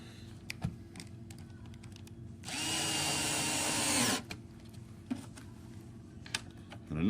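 A power drill whirs steadily for about two seconds as it drives a screw into a deep picture frame, set between scattered clicks and taps of handling nearby.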